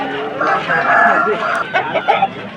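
A rooster at a Vijayawada poultry market, a black-coloured bird about twenty-two inches tall and three kilograms, crowing and clucking in short bursts close by amid busy market bustle and nearby voices.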